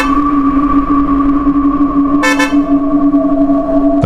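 A single loud car horn sounds briefly over a steady droning tone, close and alone with no talk.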